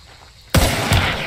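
Two close pistol shots from a Sparks pistol in Hunt Showdown ring out about a third of a second apart, each a sharp, loud crack with a short ringing tail and no voices over them.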